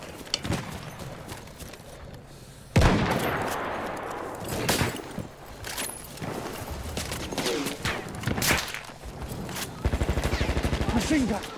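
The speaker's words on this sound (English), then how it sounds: "There, enemy machine gun." Bursts of enemy machine gun fire in a first-person war video game, sharp rapid volleys near and far with a loud onset and a sustained burst near the end, mixed with battle noise and voices talking.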